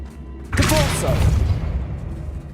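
A Depulso spell cast in Hogwarts Legacy lands as a sudden loud whooshing burst with a booming thud, then trails off into a lingering rumble over a steady low background.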